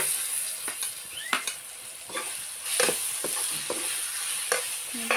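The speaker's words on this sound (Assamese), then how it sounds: "এতিয়া লৰাই দিম।" Tomatoes with turmeric and Kashmiri red chilli spice frying in a pan, stirred with repeated scraping strokes over a soft continuous sizzle, close and fairly quiet, with no talking.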